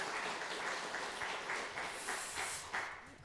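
A church congregation claps together in celebration during a Sunday worship service, a dense and steady round of applause heard from a distance with no speech over it.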